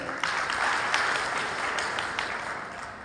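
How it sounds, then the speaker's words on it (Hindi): BJP workers at a party workshop gathering clap loudly for themselves, a broad, dense wash of crowd applause that starts sharply and stays steady, easing only slightly toward the end. "आग्रह करता हूं एक बार अपने लिए जरा जोरदार तालियां बजाएं।"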